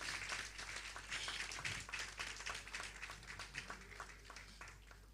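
A modest audience at a World Sickle Cell Day public lecture gives a steady round of applause for Professor Ibironke Akinshete, the clapping diffuse and fairly faint as if picked up from a distance.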